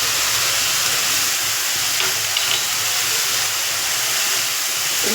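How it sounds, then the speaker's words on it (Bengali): Ground spices including cumin, turmeric and Kashmiri chili powder sizzling in a hot pan for catla fish curry, a loud continuous hiss with no pauses. "কাশ্মীরি লঙ্কা গুঁড়ো দিয়ে একটু মশলাটা আমি কষিয়ে নিই।"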